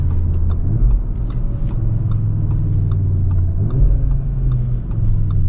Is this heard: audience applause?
no